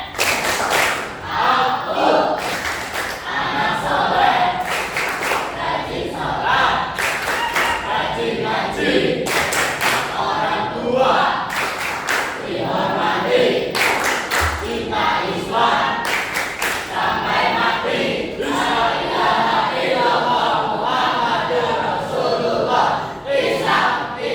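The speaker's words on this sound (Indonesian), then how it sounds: "Tepuk tangan soleh." A class of students claps a rhythmic cheer together, dense sharp claps in repeated patterned bursts mixed with crowd voices, loud and continuous throughout.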